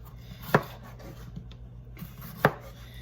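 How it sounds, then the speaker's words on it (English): Bell pepper is diced into small pieces on a cutting board, with two sharp knife chops spaced well apart against a quiet kitchen background. "I always start like this and then dice it into really small pieces"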